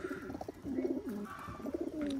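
Old native-breed pigeons cooing from a collection in Khulna, several soft throaty coos rolling in overlapping phrases, fairly close, with a faint higher bird chirp near the end.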